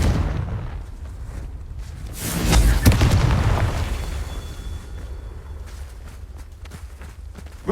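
A Confringo blasting spell goes off in Hogwarts Legacy, a deep booming explosion that swells and peaks once, then rumbles and fades over several seconds against a low background.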